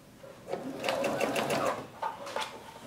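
A sewing machine stitching the hem of jeans, running in short bursts of needle chatter with brief pauses, up close.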